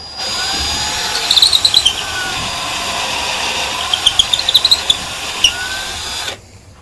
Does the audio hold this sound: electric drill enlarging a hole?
yes